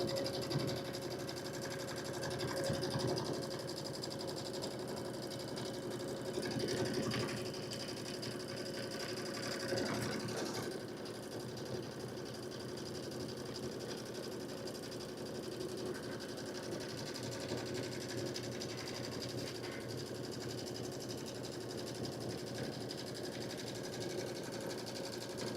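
An Aveneer embroidery machine stitches out an IQ Designer design, giving a continuous, even mechanical whir with a rapid needle rhythm, fairly close and unbroken throughout.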